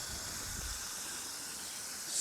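Water spray rinsing soap off a car makes a steady, broad hiss, moderately loud and continuous for the whole stretch, with no voices.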